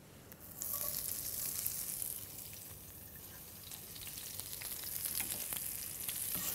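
Chopped onions fry in hot oil in a pan that still holds meat juices, giving a steady, bright sizzle with light stirring scrapes across the surface.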